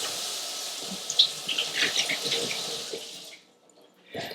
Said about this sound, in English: So I've washed the potatoes